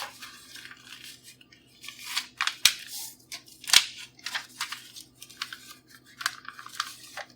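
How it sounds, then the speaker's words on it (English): Sheet of paper folded lengthwise and widthwise by hand, with close, quiet crinkles, soft rustles and a couple of sharp creasing snaps spread irregularly over several seconds. "fold the paper lengthwise and widthwise"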